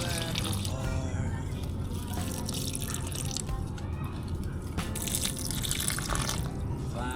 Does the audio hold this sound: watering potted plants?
yes